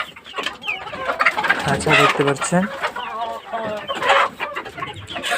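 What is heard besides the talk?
farm chickens clucking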